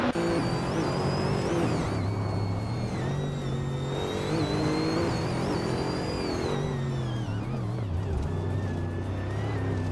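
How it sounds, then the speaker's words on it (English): Simulated race car engines from a racing video game, including a 1999 Audi R8R, drone loudly and continuously with steady revving and shifting pitch, no talk. "Aminsons is driving a 1999 Audi R8R"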